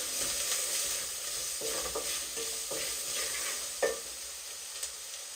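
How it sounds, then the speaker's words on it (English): Ginger and garlic sizzling with onions in a pan while being stirred, a continuous close frying hiss with a few soft scraping knocks from the spoon. "Then we put our ginger and garlic. Give it a stir."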